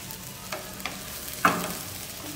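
Peas cooking in a pan get stirred, a soft sizzle underneath with a few scattered scrapes and clicks of the utensil, one sharper knock near the middle.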